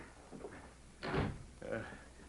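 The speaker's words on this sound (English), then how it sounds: "I'd better lock the door again." A door in an Old West setting is shut and locked, giving a sharp, loud knock of wood and latch, followed by a softer rattling click, with quiet talk before it.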